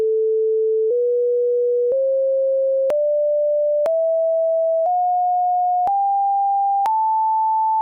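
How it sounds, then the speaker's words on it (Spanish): Seven steady pure tones step upward one after another, each about a second long, climbing in equal intervals across a single octave, clean and alone with no other sound. "Los investigadores habían tomado una octava y la habían dividido en 7 pasos perfectamente equidistantes."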